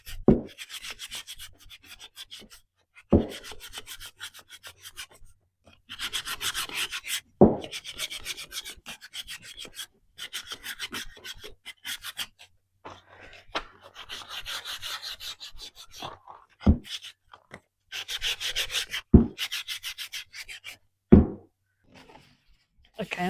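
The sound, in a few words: hand sanding painted wood with 220 sandpaper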